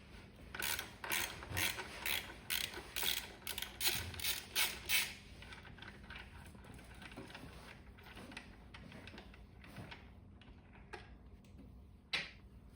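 Ratchet wrench working an 18 mm axle nut on a Dualtron Thunder 3 electric scooter's suspension, a rapid run of sharp clicking bursts for about five seconds, then sparser faint clicks and a final loud burst near the end.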